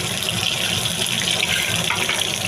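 Bombay duck (lote) fish fry in hot oil with a loud, dense, unbroken hiss of sizzling that holds even throughout.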